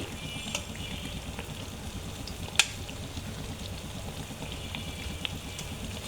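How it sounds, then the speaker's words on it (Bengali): Milk-powder amriti dough frying in hot oil, a soft, low, continuous bubbling close by with a single sharp click partway through and no talking. "তো এইভাবে আমি সবগুলো ভেজে নেব।"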